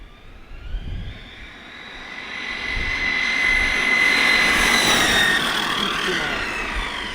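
An ARRMA Mojave 6S BLX RC car on a 4S battery with a high-speed 20T pinion races past, its motor whine rising into a loud, sustained high-pitched scream that swells as it nears and holds before easing slightly.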